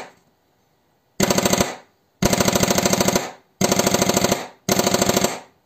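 Airsoft pistol fitted with an HPA module fires four rapid full-auto bursts in a row, each a loud mechanical rattling chatter of shots, separated by short silent pauses.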